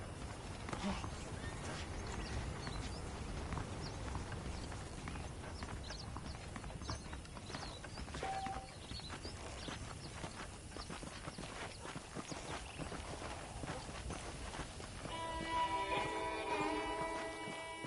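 Horse hooves clip-clop steadily at a walking pace in Red Dead Redemption over a constant background of ambient game sound, with no voices.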